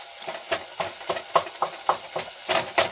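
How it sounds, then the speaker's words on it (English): Tomatoes cook in a pan for a spicy chicken curry and are pressed and mashed, giving about ten regular wet squelching scrapes over a soft steady sizzle, close and moderately loud, with no talking. "I'm just crushing the tomatoes"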